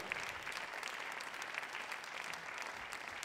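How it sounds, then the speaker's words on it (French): Audience applause at a wine event, a steady wash of many hands clapping, fairly quiet and distant, with no voices over it. "vous les applaudissez s'il vous plaît tous les deux"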